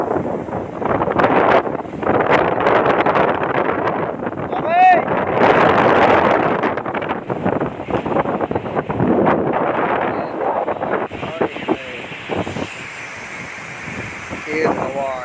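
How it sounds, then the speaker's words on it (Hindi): Strong storm wind during a storm in Bengal, blowing over corn fields, roaring as continuous loud buffeting across the microphone, with someone talking throughout. "तेज़ हवा"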